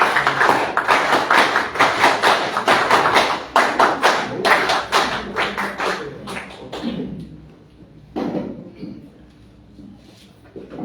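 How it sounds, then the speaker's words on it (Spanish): An audience at a social agenda and migration conference gives loud applause that sounds like dense clapping with heavy thumps, strongest for about seven seconds, then tapering to scattered claps and a final burst. "Lo recibimos con fuertes palmas."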